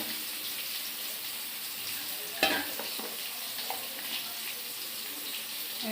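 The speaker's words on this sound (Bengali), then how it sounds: "সোয়াবিন গুলা গরম জলে ভিজায় রাখছিলাম, তাই দিয়ে দিলাম। একটু ভাজা ভাজা হইব।" Soaked soybean chunks frying in a pan make a steady wet sizzle with a sharp clatter as a utensil stirs them partway through, close by and free of talk.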